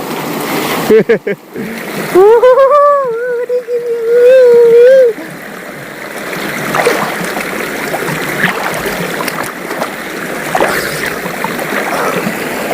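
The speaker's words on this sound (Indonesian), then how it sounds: "Ya Allah, gelombangnya kayak tsunami" Waves wash and splash on a river, a churning rush of water that continues after a loud voice calls out over it at the start, with scattered splashes.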